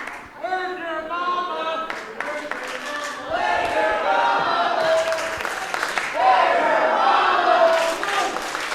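A wrestling crowd at a Rhodes Wrestling Association live event shouts and chants loudly and steadily, voices swelling in waves with scattered claps throughout, no single speaker standing out.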